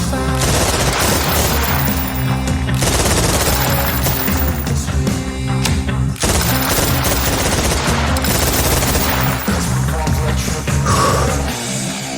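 Video game shootout gunfire rattles loudly and almost without pause, bursts of automatic fire and shots layered densely over the whole stretch, with faint voices mixed in.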